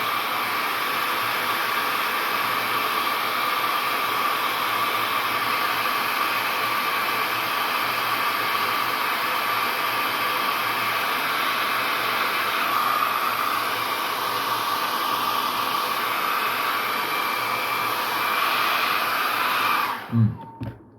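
A hair dryer blowing on a watercolor landscape painting, a loud steady whooshing roar held evenly for about twenty seconds before it cuts off abruptly at the end.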